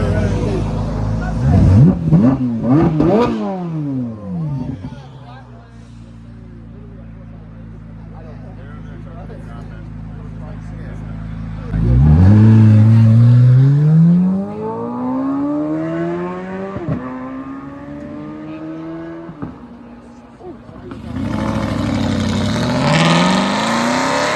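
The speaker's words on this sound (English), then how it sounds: "Hey, rev it up." An exotic car engine revs hard at a car show, sweeping up and down in pitch through several loud, close bursts with idling between, while a crowd talks and shouts over it.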